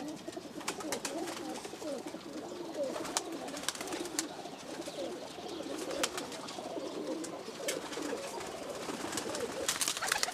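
Home-bred Teddy breed pigeons coo continuously in their loft, overlapping low rolling calls from several birds close by, with scattered sharp clicks and flutters throughout.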